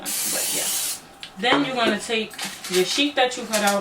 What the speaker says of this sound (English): I'm gonna use this cooking spray.